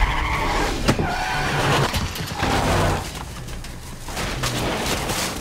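A car drives fast and brakes hard in a scene from the 2010 horror film A Nightmare on Elm Street, with steady loud engine and road noise and a skidding squeal, and no talk.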